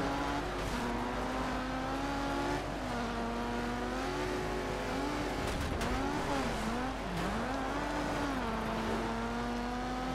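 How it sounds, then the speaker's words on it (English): A high, sustained rallycross car engine whine in Colin McRae Dirt 2, pitch wavering up and down as it revs and shifts, loud and continuous throughout. "it's like a whine from a rallycross engine"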